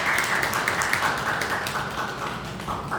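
A church congregation applauds in celebration, a dense, continuous patter of many hands clapping together, steady throughout and moderately loud, with no voices over it.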